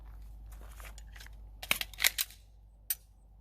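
Quick pistol magazine change done at full speed: a few sharp metallic clicks and clacks in a short burst, then one final snap, fairly faint and close in an otherwise quiet space.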